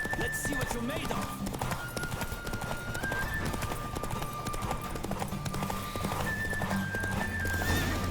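Horse hooves pound in a fast, steady gallop during a horse race in The Witcher 3, with dense clip-clop rhythm, occasional neighs and game music filling the background while voices speak intermittently over it.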